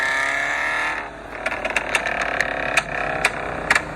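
Loud-exhaust car, a Scion FRS or BMW F30 340i, revs hard and then lifts off, followed by a string of sharp crackling backfire pops heard close up from the cabin.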